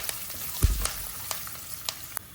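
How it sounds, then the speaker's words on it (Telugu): Curry leaves crackle and sizzle in hot tempering oil with fenugreek, mustard seeds, cumin and lentils, under a low frying hiss, with a few sharp spoon scrapes as the mix is stirred close by. "ఇప్పుడు కొంచెం కరివేపాకు. ఒకసారి కలుపుదాం."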